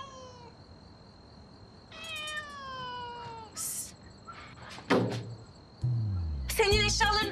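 A cat gives several clear, drawn-out meows at close range, with some brief knocks and rustles between calls and a steady high insect-like whine in the background.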